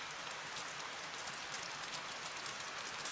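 Steady rain falls on a terrace, a dense, even hiss of countless drops that continues without a break, fairly close and with no speech over it.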